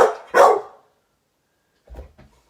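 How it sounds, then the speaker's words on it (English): Two sharp, loud dog barks in quick succession, followed by a pause and some faint low rustling. "So he's barking."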